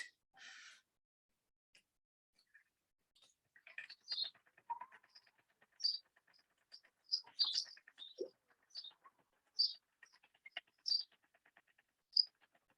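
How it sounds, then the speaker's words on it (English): Recorded stork calls played at a motion-activated museum exhibit station, sparse, faint chirps and clattering bursts spaced over several seconds against near silence. "you have that idea of those stork sounds, and then the wind"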